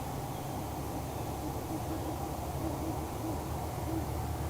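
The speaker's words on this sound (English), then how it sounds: "we were able to hear the hooting of an owl right before the honk of this Metro North train" An owl hoots in a park, a few soft, evenly spaced calls drifting in from a distance over a steady background hiss.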